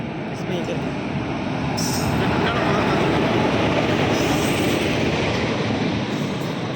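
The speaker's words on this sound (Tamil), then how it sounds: "அதுக்குள்ளே ட்ரெயின் வேகமாக வர ஆரம்பிச்சிட்டு" A train rumbling steadily on the rails, a broad roar that grows slightly louder as it draws closer.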